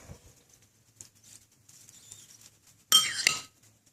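A small spoon scoops reheated vegan food from a pan in a home kitchen, with faint scrapes and light clinks and then a brief louder metallic clatter near the end, otherwise quiet.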